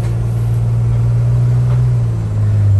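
Inside a 2008 Dodge Sprinter van with limp mode and P0428 and P242F fault codes, a loud, steady low engine drone fills the cabin as it accelerates onto the highway, with no talking.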